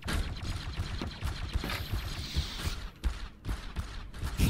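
Scattered gunfire from a multiplayer shooter game in a server lobby, sharp irregular shots and short bursts at moderate level, mixed with clicks and mechanical clatter, no voices over it.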